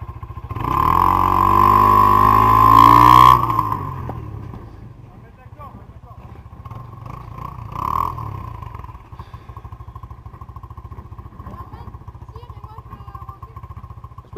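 Kawasaki KXR dirt bike revving hard for about three seconds, loud and close, then dropping to a lower idle rumble with a brief second surge; people talk over the engine.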